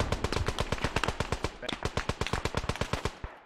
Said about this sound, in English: Better get that MG if you can.